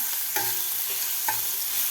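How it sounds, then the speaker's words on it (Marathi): Ground masala paste sautéing in a pan, making a continuous close hiss of frying with two distinct scraping strokes of a spoon against the pan. "वाटणसुद्धा व्यवस्थित आपल्याला परतून घ्यायचं आहे"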